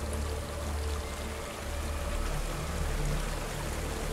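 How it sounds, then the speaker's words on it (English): Steady flowing water pours and streams continuously in Hellblade: Senua's Sacrifice, a close, even wash of sound with no voices over it. "Some water."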